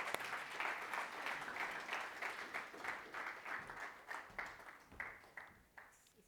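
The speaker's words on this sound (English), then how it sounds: "A round of applause, please." Audience applause at a corporate sanitation and water event, a modest group clapping at a steady pulse that thins and fades toward the end, fairly quiet, with no talk.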